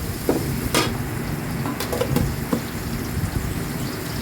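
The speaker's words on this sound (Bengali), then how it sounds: "পেঁয়াজটা নাড়ছি" Onions stirred and frying in a pan for khichuri give a steady low sizzle, with a few sharp scrapes and clicks from the spoon scattered through it. No one speaks.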